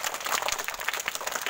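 A group of children clap together in a village health camp setting, a brief patter of many small hands, fairly quiet and steady without talk.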